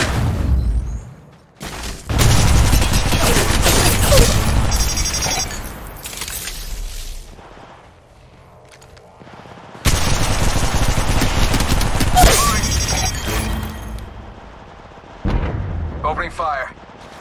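Gunfire in the mobile game Apex Legends Mobile: two long, loud bursts of rapid automatic fire with heavy booming impacts, separated by a quieter lull, then a shorter third burst near the end.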